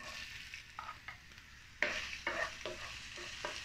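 Finely chopped ginger frying for chilli chicken makes a soft sizzle. Several distinct stirring scrapes and clatters in the pan stand out, the loudest about halfway through.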